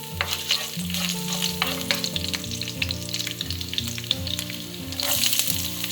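Chopped garlic frying in hot oil for stir-fried okra, a dense continuous sizzle with steady stirring scrapes, close and loud throughout and no voices.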